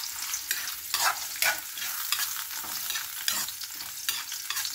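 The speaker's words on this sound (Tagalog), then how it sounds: "ilagay ang ating gata." Coconut milk is poured into a hot pan over garlic and stirred, giving a steady sizzle with scraping spoon strokes repeating every second or so, fairly quiet and without talk.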